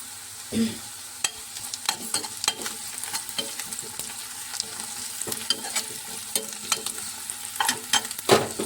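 Curry leaves fry in a pan of onion and green chilli for a mushroom curry, with soft sizzling under repeated sharp scrapes and clacks of stirring, close and fairly quiet throughout.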